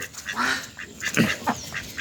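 Domestic ducks quack at close range in a short, irregular series of nasal calls, with one louder burst in the middle and brief gaps between them.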